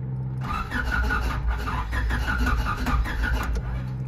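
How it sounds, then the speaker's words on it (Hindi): A car engine cranks repeatedly without catching, a steady loud whirring churn with a rhythmic pulse that keeps going for several seconds, close to the listener. "अब जैसा आप चेक करते हैं गाड़ी हमारी यहाँ पे स्टार्ट नहीं हो रही"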